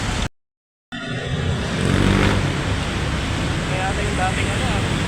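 Busy morning road traffic with jeepneys and motorcycles near Alabang: a continuous loud rumble of engines passing close by, recorded while riding, after a brief dropout at the start.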